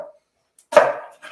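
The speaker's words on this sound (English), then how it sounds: "you can show them how to cut an onion" A knife slices through an onion on a cutting board in a home kitchen, giving one sharp, close cut with a short crunchy tail, then a softer scrape after a brief pause.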